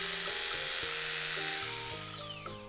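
A Japanese-market electric jigsaw runs steadily close by, a smooth even mechanical whir with a shifting tonal hum and no talking.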